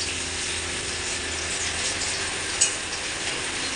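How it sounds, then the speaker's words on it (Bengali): Food frying in a pan over a clay stove in hot weather gives a steady, even sizzle with broad hiss and no talk, plus one small clink partway through. "এই যে এখানে এগুলো ভাজছি"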